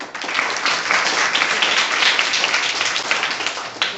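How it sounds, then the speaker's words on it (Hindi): Pupils in a government middle school classroom in Begusarai break into loud, steady clapping together, a dense round of applause lasting about four seconds with no speech over it. "ताली बजाओ इसके लिए।"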